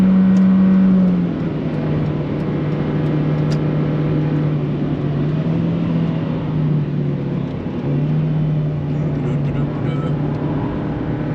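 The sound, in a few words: 83 horsepower car accelerating flat out on the Nürburgring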